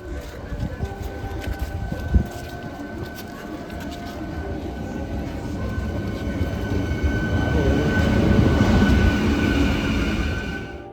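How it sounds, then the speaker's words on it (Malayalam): A MEMU train running from Kollam to Kottayam rumbles at a station, its steady roar building louder as it draws closer, with a single clank early on. "കൊല്ലത്തിൽ നിന്ന് കോട്ടയം വരെ പോകുന്ന മെമു ട്രെയിനാണ് കേട്ടോ ഇത്."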